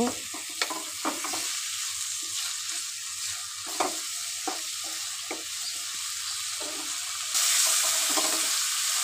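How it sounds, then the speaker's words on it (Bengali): Fish frying in a pan with spices, sautéed and stirred: a constant oily sizzle broken by sharp scraping clicks of the spatula at irregular intervals, close and clear, with the sizzle brightening near the end. "ভালো করে কষিয়ে নিব"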